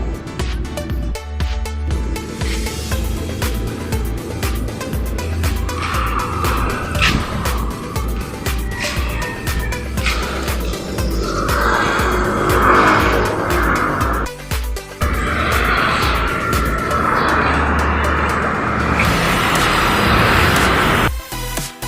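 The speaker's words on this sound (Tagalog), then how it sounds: "Yan po ang kanyang kotse." A client's car in the Bacoor, Cavite area near SM Bacoor, heard as a steady, fairly loud engine and road drone with some tyre noise across the whole stretch, briefly dipping near the middle and again at the end.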